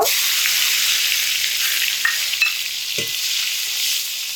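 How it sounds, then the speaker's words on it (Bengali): Bitter gourd pieces frying in hot oil give a steady, loud broadband sizzle that holds throughout, with a couple of faint clinks and a short low knock near the end; no voices. "এবার সবশেষে উচ্ছেগুলোকে তেলের মধ্যে দিয়ে খুব ভালোভাবে ভেজে নেব"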